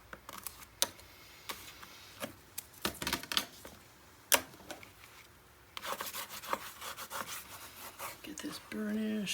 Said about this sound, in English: Get this burnished.